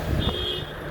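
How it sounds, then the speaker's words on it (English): On a noisy London street, a parked car's alarm sounds nearby as a sustained high electronic tone over low traffic rumble. "this guy who's let his car alarm go off"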